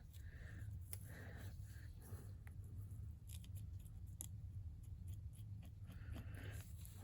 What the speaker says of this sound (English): I'm going to cut the end off